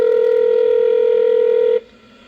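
A loud, steady telephone tone on a phone line holds for nearly two seconds, then cuts off abruptly to a faint hiss.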